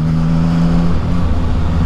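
A CF Moto 675 NK motorcycle engine runs close by with a deep, steady droning note that eases partway through, loud and alone.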